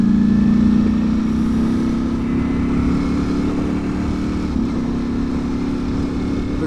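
A 2023 Ducati Panigale V4 SP2 motorcycle engine at low RPM while riding, a steady drone with a slowly rising pitch and a brief shift near the end, continuous and fairly loud with wind noise.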